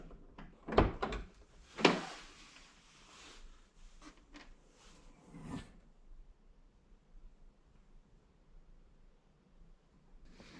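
Car door on an Autozam AZ-1, opened from the inside with the seat removed: two sharp clunks near the start, rustling, then another thud, close and fairly loud, with quiet stretches after.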